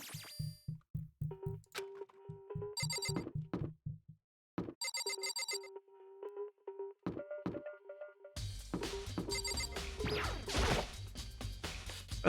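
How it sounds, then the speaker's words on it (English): In the video game Danganronpa, a doorbell chimes in a room in repeated bright electronic ring bursts, loud and close, mixed with game sound effects and ending in a busier swell of music. "That's the doorbell."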